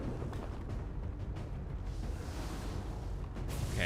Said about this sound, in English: A lot of explosions happening.